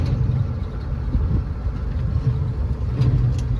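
The low rumble of a 1990 Ford F150's 4.9L inline-six engine runs steadily and close while the truck rolls along, with road noise mixed in.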